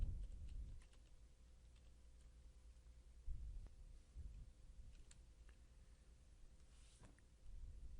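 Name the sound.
typing GDP on a computer keyboard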